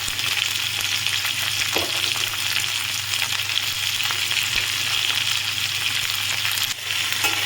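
Onion and potatoes frying together in a pan sizzle continuously and loudly up close, with a few stirring knocks and a low hum underneath.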